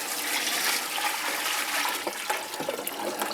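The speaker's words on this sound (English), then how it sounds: "Once this is done, you want to put in your broth." Broth poured into a soup pot for cabbage soup, a steady, close rushing stream of liquid that runs unbroken for a few seconds, with no talking.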